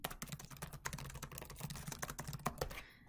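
Fast, irregular key clicks from typing on a computer keyboard, close and fairly quiet, continuing steadily for a few seconds with no talking.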